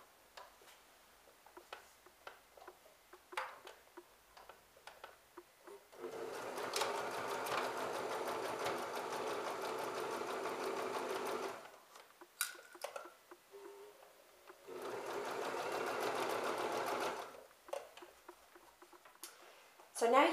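A sewing machine stitching slipcover fabric for a chair, running in two long steady whirring bursts with a short stop between, close up, with a person talking quietly in the quieter stretches.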